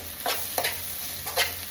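Spices are stirred into a chicken curry in a pan, making three quick scraping strokes over a soft, continuous sizzle.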